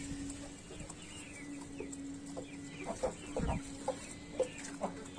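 Aseel chickens cluck while feeding, short clucks scattered irregularly over a steady low hum, fairly close and moderately loud, with no speech.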